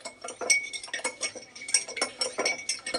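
Spoon stirring a drink in a glass at home, a rapid run of close, bright metallic clinks and scraping taps in uneven bursts, with no talk.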